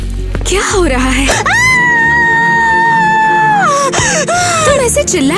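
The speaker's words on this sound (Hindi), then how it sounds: "तुम ऐसे चिल्ला क्यों रही हो?" A cartoon girl lets out a loud, sustained frightened scream, holding a steady high pitch for over two seconds before breaking off, framed by shorter animated vocal cries.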